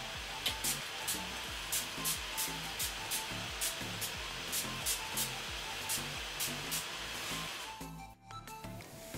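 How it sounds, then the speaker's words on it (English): Repeated short bursts of NYX matte finishing makeup setting spray hiss in a quick regular rhythm, close up, over a steady background whir, stopping briefly near the end. "I'm just going to set everything with my NYX matte finishing spray"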